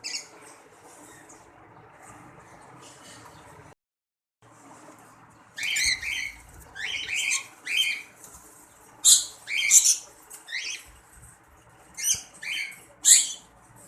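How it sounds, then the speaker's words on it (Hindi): Pet Eno parrots and red lories in a home aviary setup give sharp, high chirps and squawks in irregular clusters, close by, over a faint background hum. "ये सेटअप में है, ठीक है, ये तोते इनो, और इसके अलावा जो है वो लॉरी वगैरह भी है, रेड लॉरी।"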